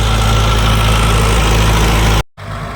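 Loud, steady low rumble of an idling Arjun tractor engine, briefly cutting out near the end before the throbbing hum resumes.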